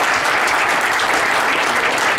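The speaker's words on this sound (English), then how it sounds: "Let's give her and Moira and the rest of the team a huge round of applause." Loud, dense applause fills a dinner gathering, a steady unbroken wash of many hands clapping close by for the whole stretch.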